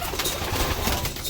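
Stock breeder pigeons in a loft, including long-distance racing birds, coo softly together in a brief, dense murmur of low burbling calls.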